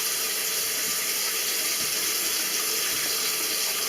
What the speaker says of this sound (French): On laisse couler l'eau froide